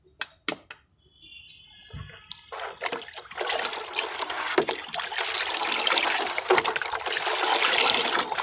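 Water is poured into a container of mixed solution for watering garden plants, with a few knocks and splashes at first and then a steady, building gush and trickle.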